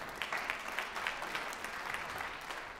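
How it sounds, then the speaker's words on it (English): Light, scattered applause at a jazz and spirituals concert, a modest audience clapping at moderate distance with individual claps standing out in an uneven rhythm. "You can clap."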